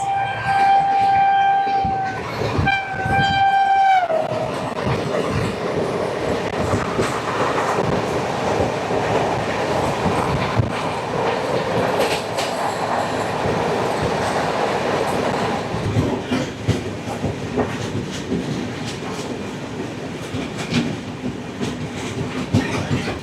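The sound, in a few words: WAG-9 locomotive pulling freight wagons loaded with JCBs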